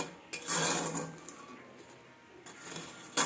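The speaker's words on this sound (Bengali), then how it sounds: "মটরগুলোকে ভেজে নিচ্ছি" Peas being roasted in hot sand in a pan, a dry gritty scraping and rattling that swells in a couple of bursts and then eases, close and without talk.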